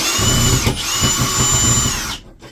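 Power drill backing screws out of a boat's port side portlight during resealing, a steady whining drill run with a brief dip midway, close and loud, stopping abruptly near the end.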